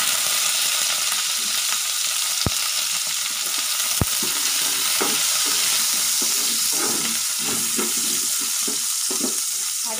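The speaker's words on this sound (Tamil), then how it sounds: "அதையும் போட்டு வதக்கிக்கலாம்." Small chopped chilies sauté in a pan for vaalai tandu sambar, a loud continuous sizzle with stirring scrapes and two sharp clinks against the pan.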